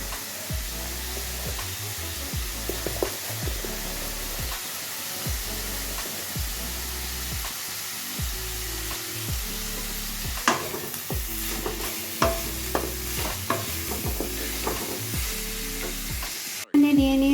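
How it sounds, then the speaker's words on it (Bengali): Whole cumin seeds fry in oil with a steady, close sizzle, broken by repeated rhythmic scraping and stirring strokes against the pan and a few sharp clinks near the end. "এগুলোকে হালকা করে আমি ভেজে নেব এর মধ্যে দিয়ে দিচ্ছি একটু গোটা জিরে"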